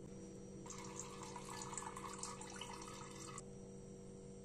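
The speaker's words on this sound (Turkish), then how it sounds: "Evet, şimdi bu karışımımızı süzeceğiz." Peach and lemon drink mixture strained through cheesecloth into a jar, giving a soft, steady pour of trickling liquid for a few seconds against a faint background hum.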